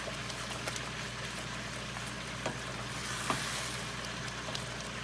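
Red wine poured over chicken frying in a pan, giving a faint, steady sizzle with a few soft pops.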